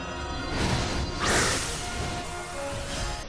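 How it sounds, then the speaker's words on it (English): Crystal light shatters around Dragonite in Pokémon Scarlet and Violet, a bright glassy crash swelling out of a rumbling, sustained background score and then fading into the music. "The crystal light around Dragonite shatters and it returns to normal."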